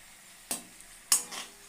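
Sliced potatoes frying in oil in a home kitchen, a soft sizzle under two sharp metallic scrapes of a utensil against the pan, close by; no talk.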